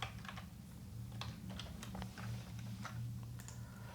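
Keys tapped on a computer keyboard in short, irregular bursts, entering a word into a Bootstrap dropdown menu, quiet and close against a low steady hum, no talking.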